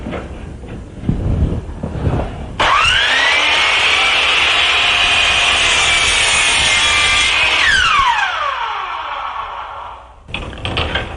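Wooden boards for a basic wall shelf being cut to final length with a power saw: a steady, loud whining cut of about five seconds that spins up sharply and winds down, with bench noise and shuffling before and after.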